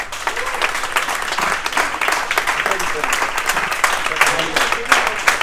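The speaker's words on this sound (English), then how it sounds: "Let's give him a big clap." An audience in India gives a big round of applause for a soldier fitted with a prosthesis, dense steady clapping filling the room for several seconds with faint voices underneath.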